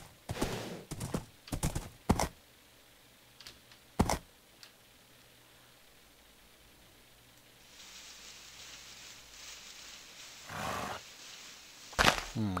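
Horse hooves in Minecraft, Life in the Woods Renaissance modpack: a few sharp, separate clip-clop steps, close and fairly quiet, with pauses between them and a soft hiss of background ambience joining later.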